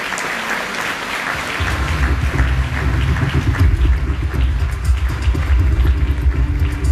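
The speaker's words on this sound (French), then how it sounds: "Merci de les applaudir tous les 6" A festival audience at a Charles Aznavour tribute applauds six performers joining the stage; after a moment of quieter sound the clapping swells into a dense, loud, sustained ovation with some low rumble beneath.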